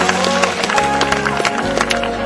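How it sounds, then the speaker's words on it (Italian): Applause from a mountain race audience at an outdoor awards moment, scattered hand claps heard faintly under loud music and announcer speech. "Grande applauso!"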